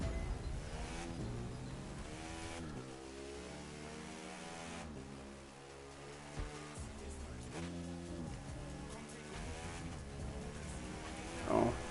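Engine revving in bursts of rising and falling pitch during wheelies, moderately loud and continuous, with a sharp noise at the very end.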